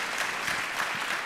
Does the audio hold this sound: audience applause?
yes